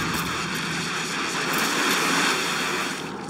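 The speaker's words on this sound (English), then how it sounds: "A rescue helicopter is inbound." A rescue helicopter from the video game Tomb Raider drones in on approach, a loud, steady engine roar that swells slightly and then eases near the end, with no talking.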